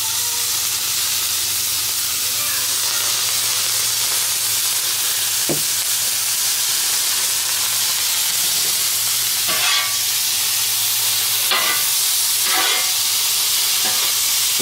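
Peppers with a spoonful of sugar caramelizing on a Blackstone griddle over medium-high heat give a loud, steady sizzle that runs the whole time, with a few faint clinks and scrapes now and then.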